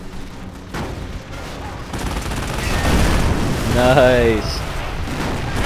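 Recoilless rifle fire in the Company of Heroes video game booms loudly amid a rumbling barrage of battle noise, with a brief spoken word over the din.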